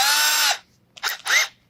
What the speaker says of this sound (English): So I'll put the drill bit in a drill